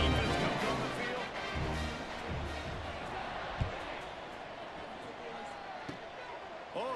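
Steady roar of a football stadium crowd in a college football dynasty video game, filling the whole stretch as a dense wash of cheering with a few brief thumps and swells, under continuous commentary.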